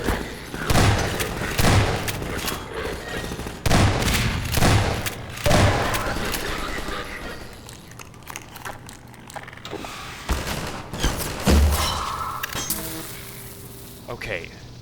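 Rocket launcher blasts and gunfire from the first-person shooter Half-Life 2, several loud booming hits and bursts spread across the clip, with a voice talking over them.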